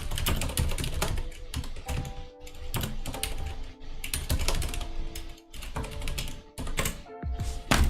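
Someone types quickly on a computer keyboard up close, in dense bursts of crisp clicks broken by short pauses, with no talking.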